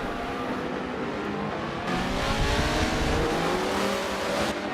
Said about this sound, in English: The Audis are side by side, heavy under braking.